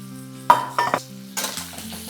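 Chopped onions drop into hot oil and butter with a sharp hiss, then a few clinks of a utensil on the pan and another burst of sizzling, heard over a low steady background hum.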